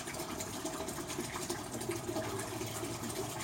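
A Current Eflux DC pump pushes water through an aquarium sump in a steady, continuous rush of flowing and splashing water, with a faint mechanical hum underneath and no voices.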